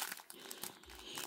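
Close, crinkly rustling of a soft toy being squeezed, a brief burst of papery crackles heard up close with no talking.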